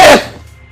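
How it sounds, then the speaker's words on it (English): A single sneeze in a quiet indoor setting, a loud burst that trails off quickly. "Excuse me. I sneezed."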